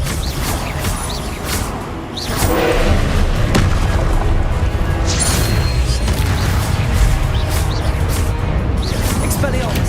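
Expelliarmus spells from Hogwarts Legacy are cast in repeated bursts, with loud booming impacts and crackling magic over a dense, continuous game soundscape.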